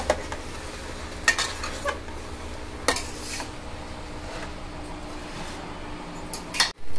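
Tomato rice being stirred in a hot pan, with a few scraping and clinking strokes of a ladle against the metal over a faint sizzle, close and with no speech.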